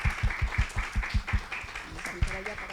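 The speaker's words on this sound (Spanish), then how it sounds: "Un aplauso" Applause for a speaker at an academic seminar on childhood and citizenship, a few rhythmic hand claps close by that give way to scattered clapping, with voices speaking underneath.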